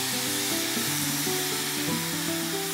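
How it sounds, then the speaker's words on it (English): White wine poured into risotto rice in a hot pan, giving a steady close sizzle and hiss with stirring throughout, no voices. "And now I'm adding some white wine and continuing to stir to really make sure that the rice is beautifully coated"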